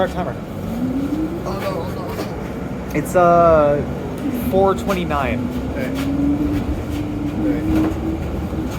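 A shuttle bus riding toward Line 6 Finch West, a steady engine rumble and road noise running throughout under several people talking nearby.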